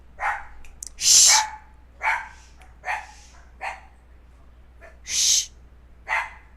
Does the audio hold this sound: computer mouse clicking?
no